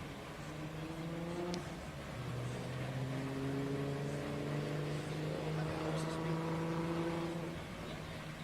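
Drift car on a qualification lap at the Drift Kings Asia Cup in Malaysia, its engine revving and holding in rising and falling tones, loud and sustained as a commentator talks over it.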